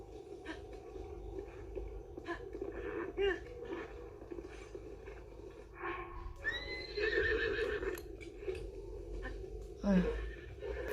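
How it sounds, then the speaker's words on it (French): A horse neighs in Zelda Breath of the Wild, with a clear whinny rising in the middle of the clip over game ambience, hoof clip-clop and a voice talking. "Je vais laisser mon cheval au village de Cocorico"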